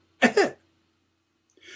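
A single short, raspy cough sounds close up, followed by silence and then a faint breathy noise.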